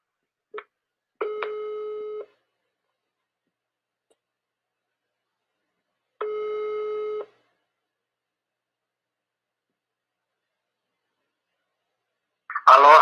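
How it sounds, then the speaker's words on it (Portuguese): Telephone line tones during dialing: a short blip, then two long electronic tones several seconds apart with silence between, ending in a brief burst of noise. "Estou discando aqui."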